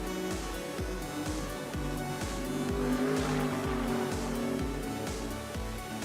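GT race cars, a BMW and a Mercedes, fight for the lead at Virginia International Raceway in a GT World Challenge America race. Loud engines roar steadily, with rapid repeated gear-shift pulses and the edge of tire noise, and nobody speaks.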